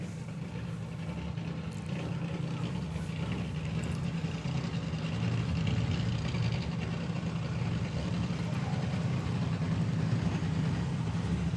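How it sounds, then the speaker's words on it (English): A drag racing car's engine runs steadily at a nostalgia drag racing meet, with a low, throaty, continuous rumble that swells slightly in the middle and stays loud throughout without talking. "So the car sounding really, really strong."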